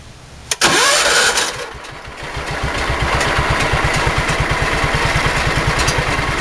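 A snowblower engine cranks, catches with a sharp start and settles into a steady, loud chugging idle outdoors in chilly weather.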